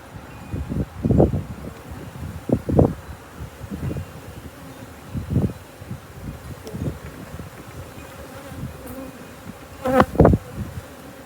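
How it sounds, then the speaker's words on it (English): A large honeybee swarm, around six pounds with its queen, hums inside a hive box, with low buzzing that rises and fades in repeated pulses as individual bees pass close to the microphone. "the bees will start fanning along here pretty quick"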